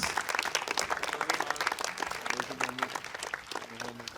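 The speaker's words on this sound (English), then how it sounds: "One more round of applause for all of our jazz award winners." An audience at a school band concert claps steadily in a sustained round of applause for jazz award winners, dense and even throughout.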